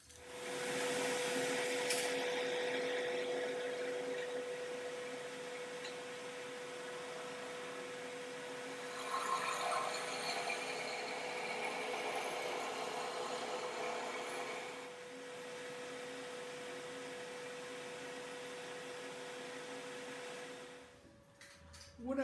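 A wood lathe turns a pen blank being shaped with a roughing gouge and skew, giving a steady, close whirring drone with a constant hum that runs for about twenty seconds before cutting off at the end.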